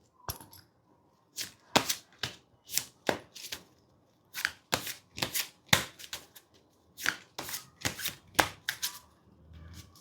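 Tarot cards shuffled by hand in repeated crisp riffling bursts with short pauses between, close and fairly loud, no talking.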